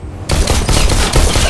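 Rapid volley of loud, close gunshots firing at targets in the VR shooter Bullet Train, played on Oculus Rift with Touch controllers, starting abruptly after a brief quiet lead-in and continuing as dense repeated bursts.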